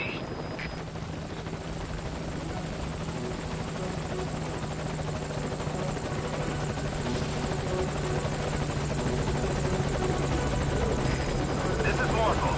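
A Morpho support helicopter in a video game approaches the landing zone, its rotor making a loud, steady, dense thrum and whine that holds close and constant throughout, with faint radio-style voice chatter beneath.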